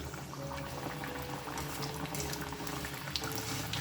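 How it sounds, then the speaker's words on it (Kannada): Roasted gram and fenugreek leaf fritters frying in oil over a medium flame, a steady dense bubbling sizzle close by with no break and no voices. "ಸೊ ಇದನ್ನು ನಿಧಾನಕ್ಕೆ ಮೀಡಿಯಮ್ ಫ್ಲೇಮಲ್ಲಿ ಕರ್ಕೋಬೇಕು"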